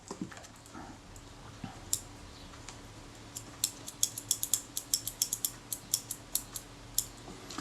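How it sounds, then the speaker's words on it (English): A small screwdriver tightens the screws on a Kodak Retina Reflex S camera shutter, making quiet close clicks and creaks in an irregular run that grows busier toward the end. "Tighten those screws up."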